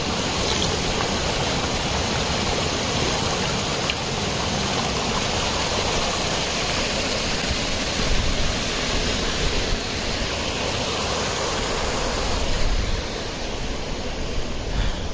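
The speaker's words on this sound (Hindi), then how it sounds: "रास्ते में फिर से एक छोटा झरना आया भाई, इसको पार करते हैं।" A small waterfall stream on the Gangotri to Gaumukh trek rushes loudly and steadily, a broad continuous roar of falling water close by, with no talk heard.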